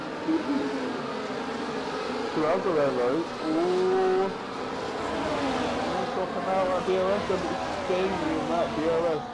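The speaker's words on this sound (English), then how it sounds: "Look at the cars coming down the main straight here, going 2 wide" Sim racing cars thunder down the main straight at Abu Dhabi, running two wide, their engine notes rising and falling in close succession while excited race commentary talks continuously over them.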